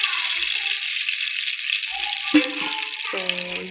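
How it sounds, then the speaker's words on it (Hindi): Oil heats in a frying pan on a stove, making a steady soft hiss with a few clinks and rattles of cookware toward the end. "ये फ्राई पैन हमने रख दिया है चूल्हे पे, तो इसमें 2 से 3 चम्मच ऑयल डालेंगे।"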